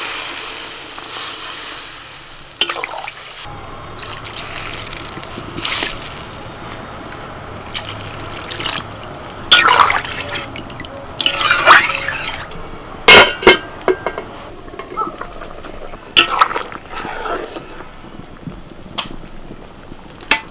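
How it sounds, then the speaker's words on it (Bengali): Water is poured into a cooking pot of spiced potatoes, splashing and gushing in several bursts, with pot clatter and handling noises between pours. "এবার আমি জল ঢেলে দিচ্ছি।"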